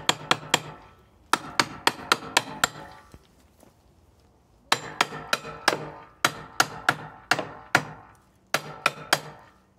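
Bursts of sharp, rapid taps as a band clamp is worked into place on Jandy swimming pool equipment during a pool opening, clustered in quick runs of four to six strikes with short pauses, close and crisp, no speech.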